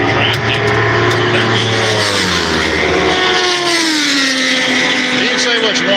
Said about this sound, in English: They do build one slippery motorcycle with enough horsepower to push it through the damn wind at a real damn good rate speed